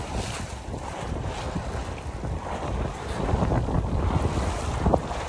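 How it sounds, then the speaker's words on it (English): Steady wind buffets the microphone aboard a sailboat under way on open water, with waves washing against the hull, a continuous broadband roar that swells slightly louder toward the end. "It's probably blowing about 10 knots right now."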